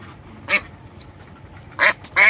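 Ducks give three loud nasal quacks nearby, one alone and then two in quick succession, over quiet background noise at a market during a feed purchase.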